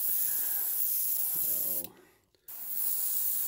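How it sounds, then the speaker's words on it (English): An air compressor feeding an airbrush runs as a steady hiss while a shallow-water baby bass crankbait is painted. The hiss cuts out briefly near the middle, then resumes at the same level. No one speaks. "you don't realize how often that compressor kicks on and off until you start shooting a video"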